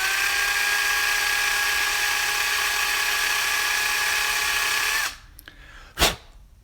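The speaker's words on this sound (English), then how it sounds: "I'm not using a real sharp drill bit at the moment." A high-pitched drill with a dull bit whines steadily for several seconds boring out a die-cast pin on a DCP T800 truck model, then stops abruptly, followed by a brief clunk.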